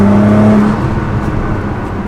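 A Stage 2 tuned Nissan GT-R accelerates hard in fourth gear from 55, its loud engine droning close and steady inside the cabin, the tone briefly sharper at first before settling into a continuous roar.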